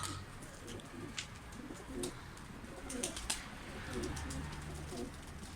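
Pigeons coo softly in a loft, low murmuring calls repeating irregularly over a faint noisy background, with some distant rustling and no clear talk.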